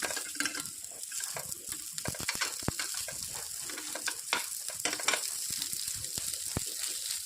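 Stuffed bitter gourds (karela) frying crisply in a pan give off a steady close sizzle, with occasional sharper pops and crackles as they are flipped, no talking.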